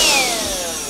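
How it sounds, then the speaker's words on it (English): A BLACK+DECKER Dustbuster 7.2V handheld vacuum cleaner's small motor whirs loudly close by, with a high whine that slowly drops in pitch. "Let's see if this works."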